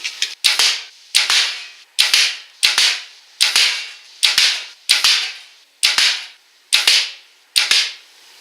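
Fixed-blade broadhead arrows, a G5 Montec and a Pipeline Holy Trinity, strike a 22 gauge steel plate about ten times in a steady series, each a loud close metallic crack followed by a short ringing decay.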